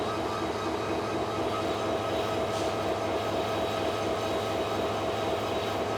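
A Malaysian diesel locomotive train runs with a steady loud rumble and a rhythmic clatter of wheels, a constant drone that carries on without a break and with no talk.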